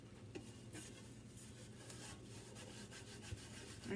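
Butter being rubbed around the inside of a tin or metal bread pan, a faint, continuous soft rubbing and scraping in a quiet kitchen, no voices.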